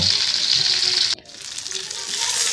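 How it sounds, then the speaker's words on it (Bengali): Fish pieces frying in hot oil in a pan, a bright dense sizzle that cuts out abruptly for a moment as a piece is turned, then swells back up, close and steady. "মাছগুলো। এক পাশ ভাজি হয়েছে, তাই আর এক পাশ উল্টিয়ে দেব।"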